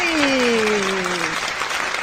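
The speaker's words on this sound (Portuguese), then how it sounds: "Muitas palmas para ele." A TV studio audience on a wellness talk show claps continuously in a thick, even roar, while a sliding musical tone glides downward over the applause.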